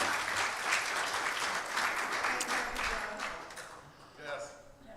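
A church congregation applauds for a man's 67th birthday, a fairly soft, dense clatter of clapping that fades out near the end, with faint voices underneath.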